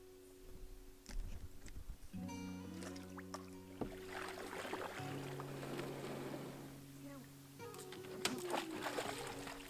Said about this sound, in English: Been paddling for a couple hours.